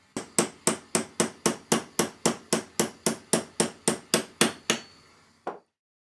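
A hammer taps repeatedly on a heated flywheel to knock it off the shaft of a model steam engine in a workshop, about sixteen sharp, evenly spaced metallic strikes close by, then a pause and one last lighter tap.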